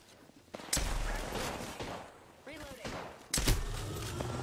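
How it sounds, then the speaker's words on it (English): Enemy gunfire in the Apex Legends video game, scattered bursts of shots at moderate distance, layered under and between players talking over voice chat. "The enemies are shooting at me"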